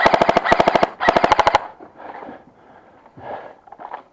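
An airsoft gun rattles off three quick, loud bursts of rapid snapping shots at close range, followed by softer scuffling and breathy noises.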